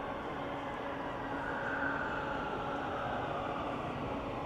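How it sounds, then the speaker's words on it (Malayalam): A driverless Riyadh Metro train arrives with a steady, broad rumble and hum that holds even and fairly loud throughout, with no voices heard. "അങ്ങനെ ട്രെയിൻ വരുന്നുണ്ട്."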